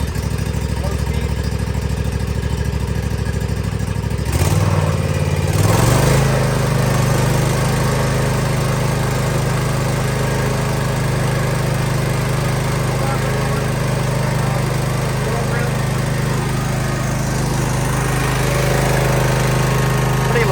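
Cub Cadet 126 lawn tractor engine starts after a brief cranking stutter and then runs at a steady, loud, close drone for the rest of the time, with a few voices faint beneath it.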